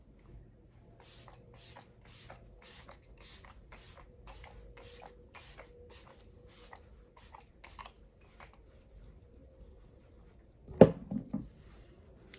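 A pump bottle of facial setting spray puffs fine mist in a rapid run of short, even sprays, close and quiet, then a louder handling clatter near the end.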